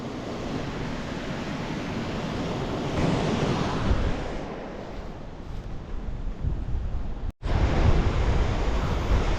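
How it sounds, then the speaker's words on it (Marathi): Sea waves surge and wash near Khanderi Fort on the Maharashtra coast, a continuous roar of surf mixed with wind buffeting the microphone, swelling midway and cutting out briefly before resuming. "तो बघा, समोर अथांग असा समुद्र."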